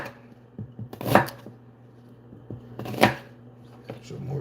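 Ginger root chopped with a knife on a cutting board in a home kitchen: two crisp, close bursts of quick chopping strokes separated by a short pause, with a faint low hum and a few soft clicks between.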